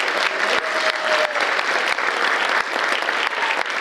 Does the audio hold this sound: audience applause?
yes